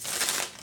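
A brief, close burst of papery tarot card shuffling, soft and continuous, with no voices.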